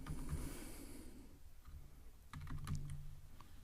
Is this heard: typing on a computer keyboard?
yes